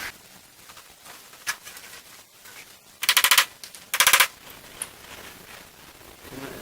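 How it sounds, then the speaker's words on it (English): A screwdriver or chisel taps the edge of a rusted screw during teardown of a 1966 Mustang convertible, two sharp bursts of rapid metallic knocking close by, separated by quieter scattered clicks. "you can take a screwdriver or a chisel and kind of tap on the edge, and that'll free up the rust"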